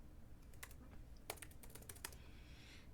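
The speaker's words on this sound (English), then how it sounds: "Maybe I should type that instead." Computer keyboard keys clatter in a short burst of uneven taps, close and fairly quiet, with a few sharper key strikes standing out and no voices.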